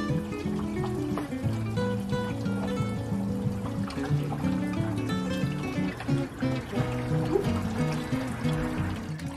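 Coolant drains from a 23-year-old Jeep Wrangler in a steady liquid trickle and pour that continues throughout, heard up close.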